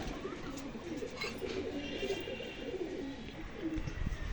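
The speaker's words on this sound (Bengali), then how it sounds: "তো এই চারটা পায়রা সেলে রেখে দিলাম।" Domestic pigeons coo steadily and close by, soft rounded calls repeating through the whole stretch with a faint bird chirp or two and light background noise.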